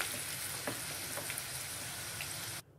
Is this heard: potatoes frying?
yes